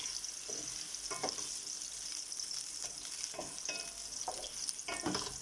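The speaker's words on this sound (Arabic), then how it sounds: "هنفضل بقى ايه نديها كده ايه تقليبات في الصينيه كده" Sweets frying in a pan and being stirred: a constant sizzle with repeated scraping strokes of the utensil at irregular intervals, close and fairly quiet, with no voices.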